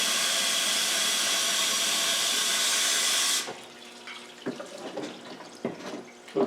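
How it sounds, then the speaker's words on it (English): Water from a hose pipe runs through the rear exhaust silencer of a Land Rover Discovery 2, a loud steady hissing rush that cuts off abruptly, then quieter trickling and a few knocks follow. "Well, there's water coming out."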